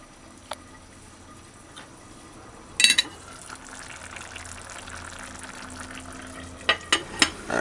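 A pot of conch and butter bean curry stew simmers on a higher flame, giving a soft, continuous bubbling and sizzle with a few sharp clinks and clatters nearby, heard alone.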